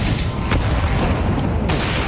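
A loud grenade blast in the video game Counter-Strike 2 during a pro playoff match, a dense low rumble lasting about two seconds, with short sharp bursts layered on top.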